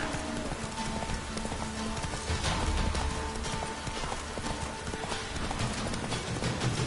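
Roach the horse galloping in The Witcher 3, with quick rhythmic clip-clopping hooves running steadily and close under game music and ambience.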